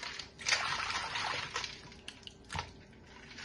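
Snails are being rinsed of their slime, with running water splashing and trickling steadily close by. A few louder splashes stand out, and no one speaks.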